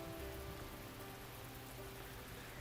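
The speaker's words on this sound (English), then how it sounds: "the rain, indifferent to our concerns," Steady rain from a visual novel game falls in an even, dense patter, soft and continuous in the background with no voices over it.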